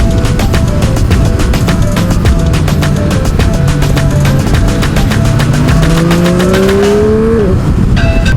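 A Triumph Rocket 3R's 2.5-litre engine revs hard on a dry road, rising in pitch through a long, loud pull before easing off near the end, close and strong throughout.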